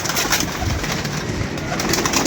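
Pigeons coo in a loft, soft repeated throaty calls close by over a busy background, with no talking.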